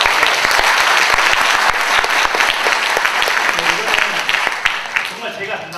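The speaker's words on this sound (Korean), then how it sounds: "박수 한번 주실 수 있으세요?" An audience at a university student council election policy debate breaks into loud, dense applause, sustained clapping from many hands that continues for several seconds and tapers slightly toward the end.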